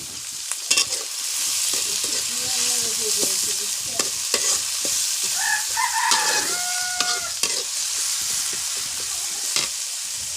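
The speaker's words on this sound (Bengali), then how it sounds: "পেঁয়াজ কুচিটা ভালোভাবে ভেজে নেব।" Chopped onions frying in a pan give a steady, close sizzle broken by scraping stirs. A rooster crows faintly in the background partway through.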